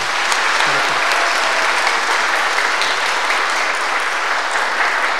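A large church congregation at a Sunday Mass claps loudly and continuously, dense sustained applause filling the whole stretch.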